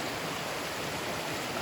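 A mountain stream in the Great Smoky Mountains rushes over rocks in a steady, even hiss of flowing water, fairly faint and continuous, with no voices.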